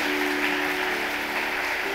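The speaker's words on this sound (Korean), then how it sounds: "이성은 집사님 박수로 환영해 주시기 바랍니다" A congregation at a Sunday morning church service applauds steadily to welcome a church member, a continuous, even wash of clapping with no break, heard from within the room.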